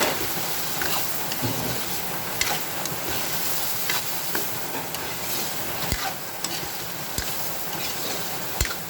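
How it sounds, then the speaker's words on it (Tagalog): Chicken and hotdog sautéing in a pan for creamy sopas, a steady close sizzle with scattered stirring clicks and scrapes, no talking. "ginigisa ko na yung chicken and hotdog"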